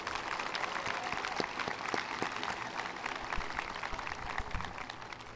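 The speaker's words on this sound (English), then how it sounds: "let's give them another round of applause" Graduation ceremony audience applauding steadily for speakers and singers, a continuous wash of many clapping hands with a few sharper individual claps standing out, sustained at moderate level throughout.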